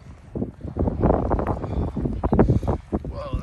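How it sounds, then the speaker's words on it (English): Strong, gusting wind at the Grand Canyon buffets the microphone with rough, roaring bursts that rise and fall throughout, loud and close. "Whoa, that's hard wind right there."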